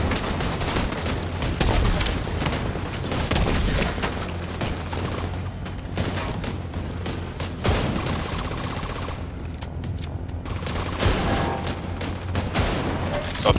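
The Division 2 firefight with grenadiers: continuous loud bursts of automatic gunfire and sharp shots, punctuated by deep grenade booms and mechanical clanks, dense and close throughout.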